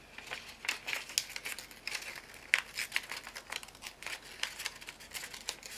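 Tracing paper being crinkled and torn by hand, a continuous run of close, dry crackling and rustling with small sharp tears.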